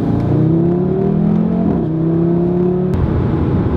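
An Audi RS3 Sedan engine pulling hard under acceleration, its droning note rising and then dropping with a downshift near the end, close and loud with no talking.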